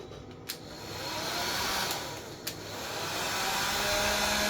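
An AEG wall-mounted hair dryer runs with a steady, close blowing roar, broken by a few short clicks as its switch is worked.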